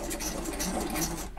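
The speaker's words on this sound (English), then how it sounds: "we're using a hand mixer here" A manual hand mixer churns pancake batter, its gears and beaters producing a busy, continuous rattling whir up close.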